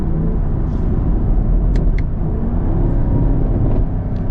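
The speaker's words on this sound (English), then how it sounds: "that's what you get with a big, naturally aspirated V8" A 2023 Chevrolet Camaro SS with a naturally aspirated V8 and valved exhaust drones loudly from close range, a deep sustained engine rumble with brief shift blips, steady throughout with no voices.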